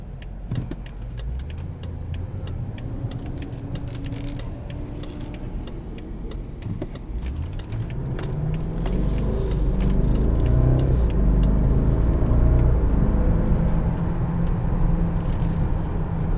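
A 2014 BMW 550i xDrive driven in Sport Plus mode, its engine note rising steadily as it accelerates, loud and continuous from inside the cabin with no talking.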